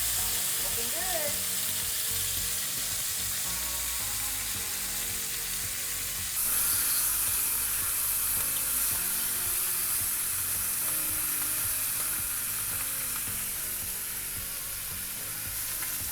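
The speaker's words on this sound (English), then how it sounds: "As my pork are searing," Pork tenderloin searing in a hot pan, a loud, steady close-up sizzle and crackle that runs without a break and grows slightly brighter partway through.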